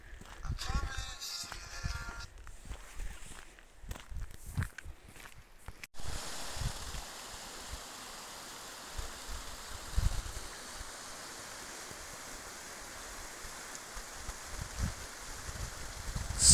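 After some rustling and footsteps, a waterfall's steady, broad rushing roar takes over and continues evenly, fairly loud and close, with only slight swells.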